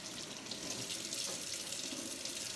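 A sink tap runs steadily in a microbiology lab handwashing station, a continuous splashing hiss of water falling into the basin, moderately quiet and unbroken, with no speech.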